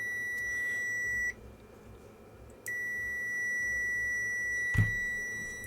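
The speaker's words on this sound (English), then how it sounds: "My multimeter's having a fit." A multimeter on the bench during a repair of a vintage Rockwell 21R calculator gives two sustained high electronic beeps with a short gap between them. The beeps are clear over quiet background noise, and no one speaks.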